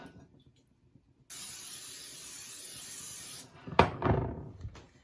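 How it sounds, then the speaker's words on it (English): Cooking spray hissing steadily into a casserole dish for about two seconds, close and fairly loud, followed by a clunk and rustle as the can or dish is handled. "Spray my casserole dish so it doesn't stick."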